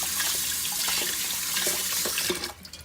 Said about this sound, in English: Wash it, rub it between 2 hands to make sure it's very clean